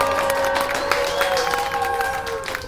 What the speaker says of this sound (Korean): 미노스님이 더 잘 만들었다고 생각하시는 분들 환호와 박수